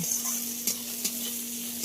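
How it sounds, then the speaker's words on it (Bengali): Onion and grated garlic frying in a pan, a steady close sizzle with a couple of brief stirring scrapes, no talking. "পেঁয়াজ আর রসুনটা খুব ভালো করে ভাজা হয়ে গেছে"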